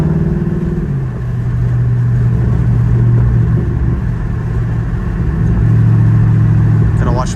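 Catless Dodge Charger Scat Pack with the windows down, loud and close, its exhaust droning and rising and falling in pitch as it accelerates, with wind noise and a voice talking over it.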